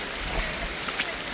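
Heavy rain pours steadily over the swollen Oyan river in flood, a dense continuous hiss of water close by with no breaks.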